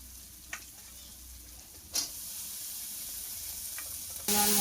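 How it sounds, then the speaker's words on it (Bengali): Pumpkin stalks being added to spices frying in a pan, a soft continuous sizzle with a few brief clinks and a sharp louder burst of frying near the end. "মশলাটা ভাজা হয়ে গেছে, এবার ডাঁটাগুলো দিয়ে দেবো।"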